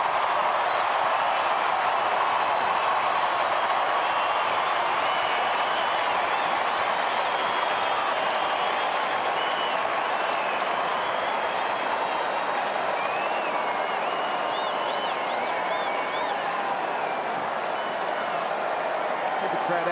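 Large AFL football crowd at a night match between Fremantle and Collingwood roars and applauds steadily after a goal, a dense continuous wash of cheering with commentary voices running over it throughout.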